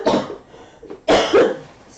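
A person coughs indoors, a short cough followed after a pause by a stronger double cough, close and clear with no talk.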